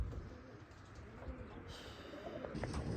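Pigeons cooing close by over a steady outdoor background, with soft bird calls through the short stretch and no one talking.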